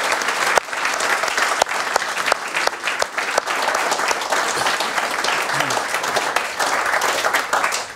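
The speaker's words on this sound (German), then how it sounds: "Noch einen riesen Applaus für Ben." Sustained audience applause for a performer on a rap show, dense steady clapping filling the whole stretch with a few sharper near claps and faint voices mixed in.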